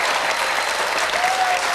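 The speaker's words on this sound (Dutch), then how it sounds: "dan gaan we heel lang voor klappen" Studio audience applauding on a Dutch TV quiz show, Boggle, from 1990: dense, steady clapping that carries at even loudness through the whole stretch with no voices over it.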